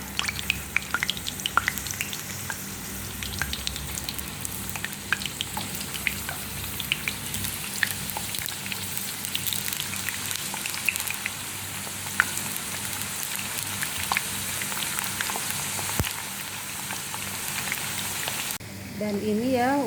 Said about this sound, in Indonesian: pertama-tama kita goreng kentang ya teman-teman tuh